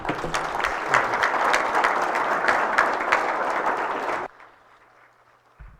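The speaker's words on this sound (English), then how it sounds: "Let's give a round of applause for our guests from the Charles Schwab team." Corporate audience applauding guests from the Charles Schwab team at a cybersecurity talk, a loud, full round of clapping from a crowd with sharp individual claps on top, cutting off abruptly into near silence.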